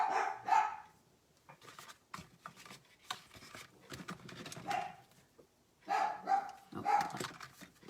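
Dogs indoors bark in several sharp bursts separated by quieter gaps, close and loud, with softer rustling between the barks.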